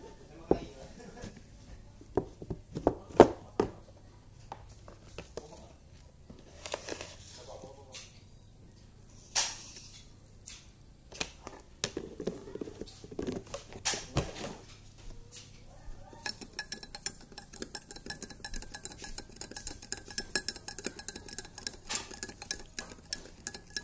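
A spoon stirring sugar into a cup of tea until it dissolves, with scattered clinks and scrapes of metal against the cup, then a faster, denser run of tinkling stirs toward the end.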